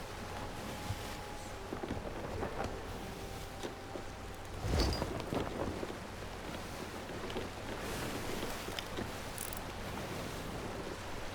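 Stormy sea in the video game Sea of Thieves, steady rushing waves and wind with rain-like hiss around a sailing ship, broadband and continuous with a brief louder surge partway through.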